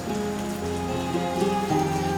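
Steady rain pouring down and pattering on surfaces, a dense, continuous hiss held at an even level throughout, with no voices.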